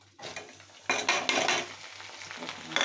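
Maggi noodles with spices and fried egg bubble and hiss in a pan, a dense close sizzling that swells louder partway through, with faint utensil clinks.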